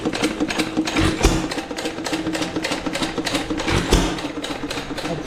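A 1925 Wizard 1.5 hp gas engine with a homemade wooden pulley runs steadily nearby, giving a fast, even mechanical chatter with a few heavier thumps, loud and unbroken throughout.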